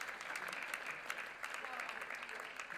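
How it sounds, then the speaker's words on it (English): A church congregation claps steadily and fairly quietly, a dense, even patter of hands lasting a few seconds with a voice speaking over it. "Come on, keep clapping."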